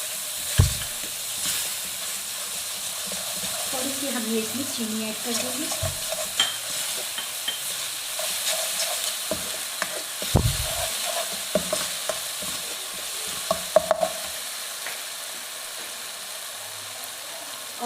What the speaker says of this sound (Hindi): इन सबको अच्छा सा चलाना है, मिक्स करना है।